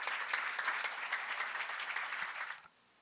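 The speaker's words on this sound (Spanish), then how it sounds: "Con un fuerte aplauso presentamos a Cesario Silvestre." An audience at a documentary screening and author presentation applauds, a dense steady clapping from a crowd that cuts off abruptly near the end.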